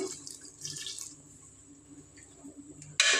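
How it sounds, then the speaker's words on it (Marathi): Hot water pours briefly into a pot of mutton masala with a soft hiss and trickle, followed by quiet dripping and a sudden louder splash at the end. "दोन वाट्या पाणी घालते गरम"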